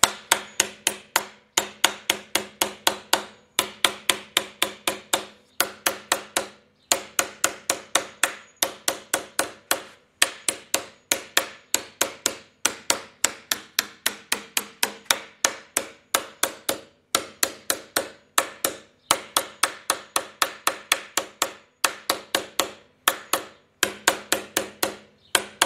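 Body sheet metal for an early Willys CJ2A is hammered to shrink it, with sharp metallic blows falling in fast, steady bursts and brief pauses throughout, loud and close with no talking.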